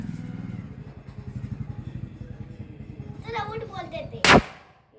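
Bidi bomb firecrackers go off during Diwali, a single sharp, loud bang near the end following a stretch of engine-like rumble and voices.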